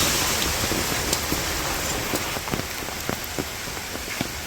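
Heavy rain falls steadily outside in a village, a continuous close hiss with scattered sharper drops spattering on nearby surfaces and no voices.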